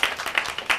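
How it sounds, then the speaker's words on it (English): Children clapping together at a library story time, a short burst of quick claps with three louder peaks in under a second, close and fairly soft. "Clap for yourselves now."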